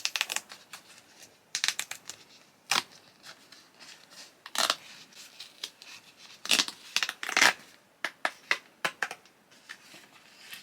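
Paper card being torn open along a perforated edge, a run of sharp crisp rips and tearing bursts at varying intervals, close and fairly loud, with no talking.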